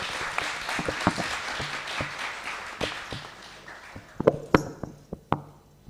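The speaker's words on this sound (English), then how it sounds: "Can I have another round of applause for all the children who took part?" Audience at a Hindu temple Navaratri performance applauding the children, a dense wash of clapping that thins out into a few scattered, louder individual claps near the end.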